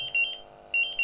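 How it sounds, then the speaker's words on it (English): A Draeger X-AM 2500 gas meter, drawing gas from a test cylinder through its pump, sounds its alarm as loud, piercing high beeps in two bursts of rapid pulses separated by a short pause, with a steady tone underneath. "There you can see that the meter's going into alarm."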